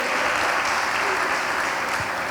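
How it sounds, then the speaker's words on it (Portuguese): Steady applause fills a worship conference hall as the congregation claps for Jesus, a dense even wash with a hint of voices mixed in. "Aplauda Jesus."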